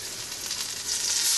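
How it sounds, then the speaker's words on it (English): Half a cup of wine poured into a hot pan with chicken, breaking into a bright, hissing sizzle that builds louder over a second and a half. "We're going to add a half a cup of wine"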